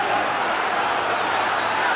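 A football crowd at a Fulham v Wolves league match in 1983 gives off a continuous, loud roar of massed voices, a steady wash of noise with no breaks.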